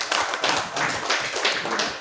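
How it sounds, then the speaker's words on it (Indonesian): A room full of people, likely at a school teachers' session, applauds steadily for about two seconds, dense and fairly close. "Tepuk tangan dulu Bu."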